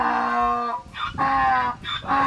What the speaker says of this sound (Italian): Guarda quante oche!